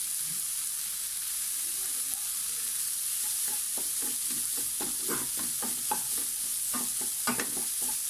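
Broccoli stems fry in a pan with a steady sizzle and hiss, stirred repeatedly so that scraping clicks come in an irregular run over the even frying noise, close and at moderate volume.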